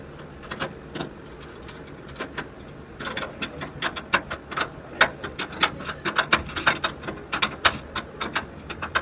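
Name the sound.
wrench tightening a bolt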